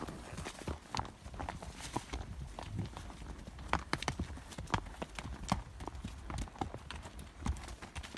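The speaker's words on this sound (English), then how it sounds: "he's actually bringing a spare horse along with him" Horse hooves clip-clop along a steep mountain trail with a drop-off nearby, several horses walking in a steady, uneven rhythm, close and fairly loud, with no voices over them.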